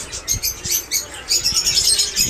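Young budgerigars, three to four months old, chirping at a bird market in Bangladesh: a busy overlapping flock of short, bright tweets and chatters, close and steady, with faint rustling and wing flutters.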